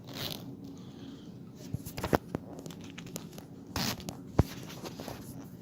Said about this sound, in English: but there is a zipper